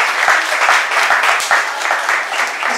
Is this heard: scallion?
no